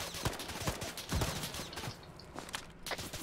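Scattered video game gunfire in a team shooter, with several sharp shots and short volleys spread across the moment. The shots sound fairly faint and distant, with no talking.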